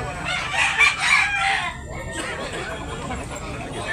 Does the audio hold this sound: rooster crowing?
yes